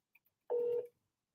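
A single telephone dialing tone, a clean steady beep lasting about a third of a second, preceded by two faint clicks and followed by silence.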